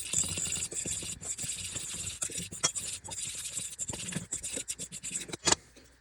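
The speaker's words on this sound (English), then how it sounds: "I'm gonna use a fork instead. Give it a quick mix." Fork briskly mixing Dutch baby batter in a bowl, a continuous close scraping and rubbing with rapid taps and clinks against the bowl sides.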